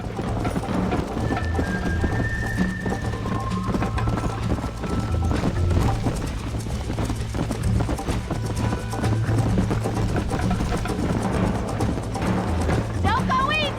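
Horse hooves drum in a fast, rhythmic gallop in Red Dead Redemption, a continuous clip-clop running under game music and spoken dialogue, with a brief whinny near the end.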